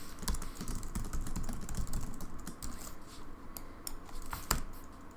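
Rapid, steady typing on a computer keyboard, a dense run of light key clicks and taps at close range with no talk.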